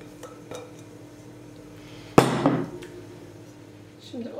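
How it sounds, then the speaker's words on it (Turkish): A prepared batter mixture poured into a Teflon pan on a stove, with one sharp clatter of utensil against the pan followed by a short rush of pouring, close, amid faint kitchen clinks. "Şimdi hazırladığım karışımı içerisine döküp ocağın başına geçiyorum"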